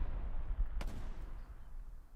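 A rocket fires in the World War II shooter Hell Let Loose, one sharp loud blast followed by a fading rumble against a low battlefield drone.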